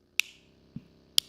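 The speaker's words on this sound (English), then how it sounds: "Yeah, I clap my hand for you." A slow hand clap: three sharp, isolated claps spaced about half a second apart, quiet and dry with near silence between them.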